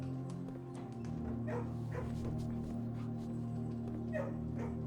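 Several small puppy yips and barks in quick succession over a steady hum of background music in the video game Blue Prince.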